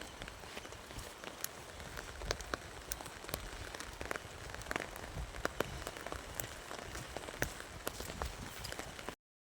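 Steady rain patters on a muddy village dirt road, a dense, even wash of drops with scattered sharper splashes running throughout, fairly close and moderately loud, with no talking.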